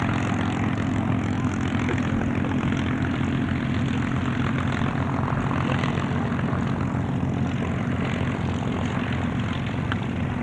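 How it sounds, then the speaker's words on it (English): A US Army Golden Knights propeller parachute aircraft with the team aboard drones overhead at an air show, a loud steady engine roar that holds throughout without letting up. "The United States Army Golden Knights parachute aircraft with the entire team on board."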